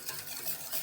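A sauce for lasagne being whisked in a pan as it thickens, a brief burst of soft, close scraping and swishing strokes with no talk.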